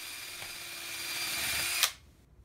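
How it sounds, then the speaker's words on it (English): A countersink drill bit bores pilot holes into a wooden cleat, giving a loud continuous whirring drone that ends with a short bite and then drops to quiet. "I'm going to countersink and pre-drill in one step each cleat"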